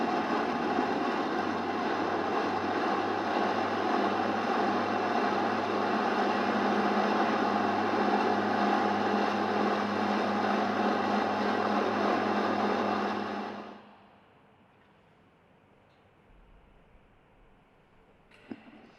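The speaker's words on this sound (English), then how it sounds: "the music of 4 Rolls-Royce Merlin engines" Four Rolls-Royce Merlin engines on an Avro Lancaster bomber drone in a loud, steady, harmonic-rich hum for about thirteen seconds, then drop away abruptly, leaving quiet background.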